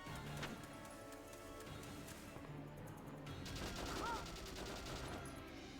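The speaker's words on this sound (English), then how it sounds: "You're surrounded and you're actually shooting at the tank?" Gunfire in a battle in the strategy game Valkyria Chronicles, with soldiers shooting at a tank: a dense, steady wash of shots and crackle under game music, with a louder burst of fire partway through.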